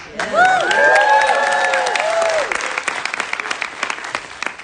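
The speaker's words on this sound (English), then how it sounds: "Can I hear some noise from the crowd?" A crowd at a Harvard speaking event cheers and applauds loudly, whoops and shouts rising over dense clapping at first, then settling into steady applause that tapers off.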